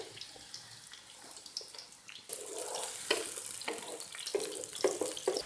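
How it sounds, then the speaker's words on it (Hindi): Onion slices drop into hot oil and start frying, a soft background hiss that suddenly swells into a steady, busier crackling sizzle midway through, with no talking. "ऑयल थोड़ा सा गर्म हो गया, अब इसके अंदर प्याज के स्लाइसेस ऐड कर देते हैं।"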